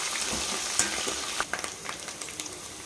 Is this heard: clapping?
no